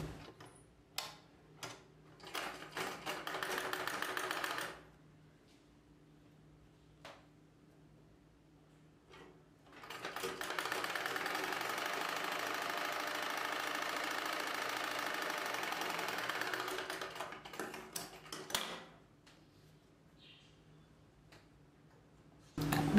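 A sewing machine stitches along the folded lining of a blouse, running in two sustained bursts with a pause and a few short ticks between them, close and fairly quiet.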